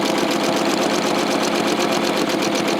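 A sewing machine running steadily through free-motion quilting of small feather motifs, its fast, even stitching hum loud and continuous with a faint rhythmic pulse and no talking.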